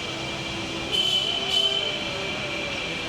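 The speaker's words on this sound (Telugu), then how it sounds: "మన ట్రైన్ స్టార్ట్ అయిపోయింది, ఆన్ టైమే ఉంది ట్రైన్ అయితే ప్రస్తుతానికి." A passenger train in Tamil Nadu rolling along the tracks, a steady close rumble of the carriage with brief high wheel squeals rising over it, no talk.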